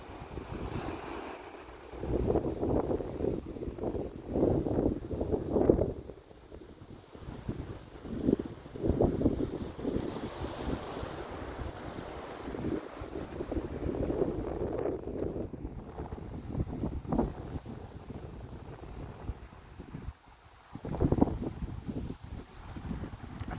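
Wind buffets the microphone while waves roll and break on the shore at Kasheli beach in Konkan in irregular surges, fairly soft overall.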